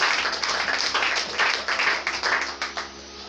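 A church congregation claps and cheers in loud, uneven bursts that swell and fade. Shouts rise over the crowd throughout the short stretch.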